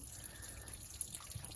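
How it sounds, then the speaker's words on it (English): Clean coolant mixed with antifreeze drains from the water pump of a 1980 car, a faint, steady trickle with soft drips in quiet surroundings. "The stuff coming out of the pump is clean coolant with antifreeze in it"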